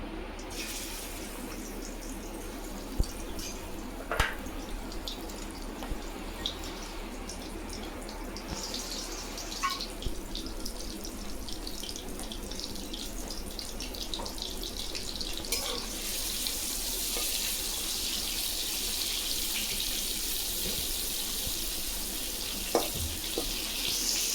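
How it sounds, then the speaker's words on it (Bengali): Prawns sizzle in hot oil in a kadai in a home kitchen, a steady loud hiss with scattered crackles and pops that continues throughout, with no talking. "তেল গরম হয়ে গেছে চিংড়ি মাছ দিয়ে দেবো"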